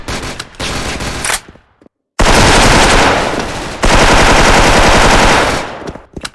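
Rapid automatic fire from an M4A1 rifle in the shooting game SF, loud continuous bursts with one short silent gap, then sustained rattling fire to the end.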